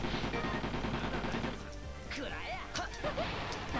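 Video game gunfire from bullets, a rapid, fairly quiet run of repeated shots at first, then scattered sharper impacts, with a person talking over it.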